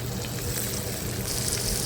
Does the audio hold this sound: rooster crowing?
no